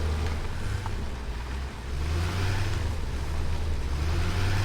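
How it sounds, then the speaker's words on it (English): A big, loud diesel tractor engine in the video game Satisfactory rumbles steadily with a low, continuous drone, close and constant with slight shifts in pitch. "it's a big, loud diesel tractor"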